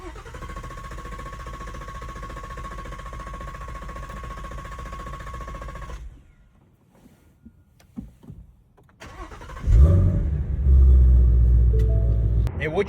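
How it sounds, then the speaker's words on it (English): A Ford Shelby GT350's starter cranks steadily and at length without the engine catching, close and even, then drops away before a heavy low rumble rises. "I'd hit the start button, and it would just try to start up forever, and it wouldn't stop itself"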